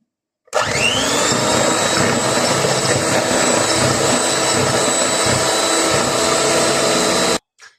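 An electric mixer beats waffle batter with 250 grams of melted butter, a loud steady motorized whir running continuously for about seven seconds with no talk.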